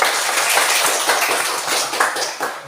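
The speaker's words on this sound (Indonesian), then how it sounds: "Tepuk tangan dulu semua." A classroom of students claps together, a dense, loud burst of hand clapping that carries on steadily for several seconds without talk.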